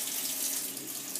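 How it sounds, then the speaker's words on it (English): Hot water runs from a tap into an aquamassage therapy cushion, a continuous, close, bright hiss and splash of flowing water with no voices. "The water's coming through nice and warm now."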